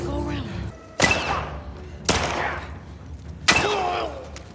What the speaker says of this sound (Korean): 총소리 난것 때문에